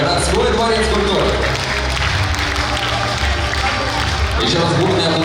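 Audience applause fills a Ufa palace of culture during an award ceremony for a folk choreography studio, a steady loud wash of clapping and crowd noise with low hall rumble throughout.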